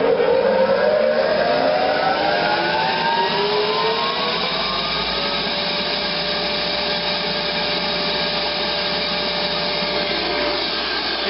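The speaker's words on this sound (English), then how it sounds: "I'm going to start up the air stripper blower using this switch while we're watching the amp draw on the motor" Stat 180 air stripper blower motor starting up, a loud steady whirring drone with a rising pitch as it spins up, then settling into a constant hum with no voices.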